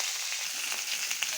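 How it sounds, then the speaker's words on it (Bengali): Chicken pieces for a chicken roast frying until browned, giving a steady, close, bright sizzle with light crackles throughout and no voices. "চিকেন রোস্টের মাংসগুলো আমি ভেজে নিচ্ছি বাদামি করে।"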